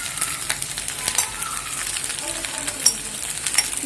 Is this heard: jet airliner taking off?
no